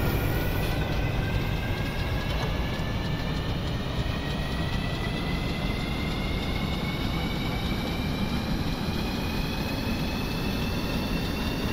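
Medium engine in the Stormworks game, running steadily with a continuous loud drone and rising whining tones throughout, no talk over it.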